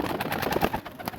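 Sialkot champion pigeons coo softly in a short, faint burst of soft pulsing calls, with no talk over them.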